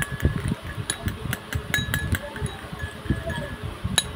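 A spoon mixes aloe vera gel with flour in a bowl, giving repeated soft clinks and taps against the bowl over a low scraping rustle, close by.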